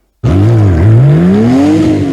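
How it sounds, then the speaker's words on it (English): Porsche car engine used as a video game sound effect, a loud sustained engine tone that dips briefly then climbs steadily in pitch as it revs up, heard alone after a short silence. "I have a Porsche engine sound right here"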